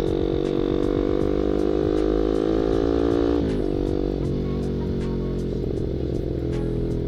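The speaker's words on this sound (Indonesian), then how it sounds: "Knalpotnya enak ya ini tarikannya, jadi bawah itu responsif banget." A Yamaha MX King motorcycle fitted with a right-hand clutch revs up and settles into a loud, close exhaust drone that holds steady throughout, with a rapid buzzing pulse.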